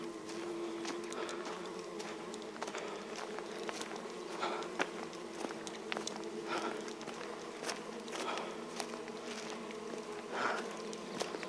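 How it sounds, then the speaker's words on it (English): Steady insect buzzing drones throughout, close and fairly loud, with scattered clicks and taps over a constant hum. "Buzzing."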